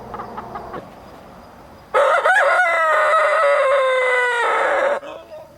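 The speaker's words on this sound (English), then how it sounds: "Hilda's a rooster." A backyard rooster named Hilda gives one loud, close crow lasting about three seconds, after some quieter clucking.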